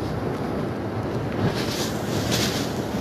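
Strong Super Typhoon Rolly wind in Albay roars continuously, buffeting the microphone with a dense, rushing hiss that swells slightly toward the end.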